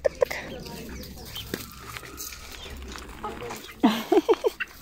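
Chickens cluck in short bursts at the start and again near the end, fairly close, over rustling background noise and a murmuring voice.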